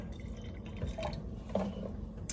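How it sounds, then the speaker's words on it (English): Ice Mountain water trickles and drips into a thermos water bottle, a brief close pouring sound with a few distinct splashes, heard alone without talk. "I'm gonna fill up half of this thermos water bottle container"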